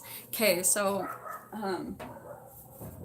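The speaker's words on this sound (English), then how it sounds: "sorry about the dogs" Dogs bark indoors in a few short, sharp yelps, loud and close, overlapping someone speaking at a tarot reading.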